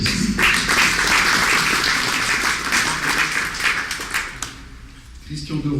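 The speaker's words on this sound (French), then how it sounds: "on peut l'applaudir" Audience applause for a mayor at the inauguration of a politician's office, a dense, steady clapping that fills the room for several seconds before thinning out near the end.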